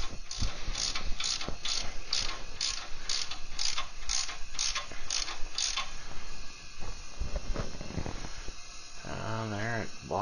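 Valve spring compressor being cranked down on an LS engine, a steady series of metallic ratcheting clicks in an even rhythm, followed by shuffling handling noises and a short voice near the end.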